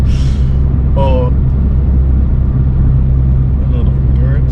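Abarth 500C convertible driving with a loud, steady engine and exhaust rumble throughout, close up, with brief voices and bird chirps over the drone.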